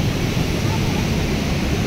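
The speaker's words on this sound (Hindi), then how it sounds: "पानी जब चट्टानों से टकराता है ना तो कितना मतलब ख़तरनाक रूप हो जाता है देखो पानी का" Water roars out of the open Kota Barrage gates and smashes onto rocks, a loud, dense, unbroken rush close at hand.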